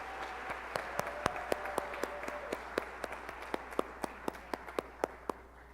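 Crowd applause honoring long-serving employees at an excellence celebration, a thin, scattered patter of individual claps with sharp distinct hand strikes standing out over a steady wash, no voices.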